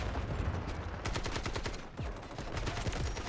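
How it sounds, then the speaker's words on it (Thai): An AKM rifle fires in a video game as loud, rapid full-auto bursts of sharp cracks that run almost nonstop, with only a brief lull in the middle. "ยิงมันทิ้งไปเพื่อนยิงมันทิ้งไป"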